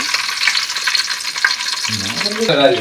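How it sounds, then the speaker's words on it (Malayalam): Mustard seeds and curry leaves sizzle and crackle in hot oil in a pan, a steady loud frying hiss throughout, with a brief tonal scrape or stir near the end. "എണ്ണ ഒഴിച്ച് എണ്ണ ചൂടായി കടുകിട്ട് ഒരു സ്പൂൺ കടുകിട്ട് ഇട്ട് കറിവേപ്പില"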